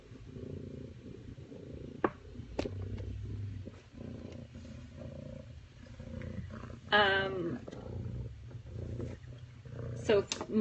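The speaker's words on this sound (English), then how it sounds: "That's their mama purring. She purrs all the time." A mother cat purring near her kittens as a low, continuous rumble with soft clicks, while a few brief high sounds and quiet voices break in now and then.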